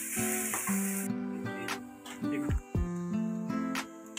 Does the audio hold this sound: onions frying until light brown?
yes